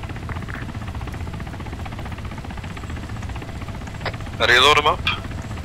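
A helicopter in a military video game, heard as a steady low rotor and engine drone running throughout, with a voice speaking briefly near the end.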